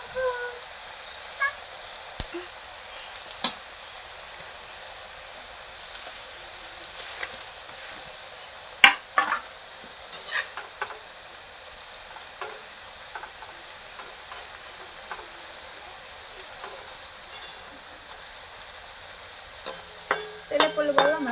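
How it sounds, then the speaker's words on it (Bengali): Pieces of nimki dough fry in hot oil as a long, steady hiss with scattered sharp pops and clicks, and occasional faint voices in the background. "তেলটা আমার গরম হয়ে গেছে, আর ভেজে নেব।"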